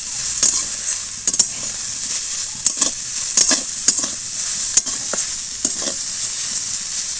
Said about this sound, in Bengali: আরও এক মিনিট মতো একটু ভেজে নেবেন